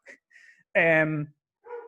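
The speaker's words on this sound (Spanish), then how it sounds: "Perdón si se escuchan chumbidos, son mis perros también." Pet dogs in a home give a short high whine and then a louder, held bark-like yelp, close by, with brief quiet gaps between the sounds.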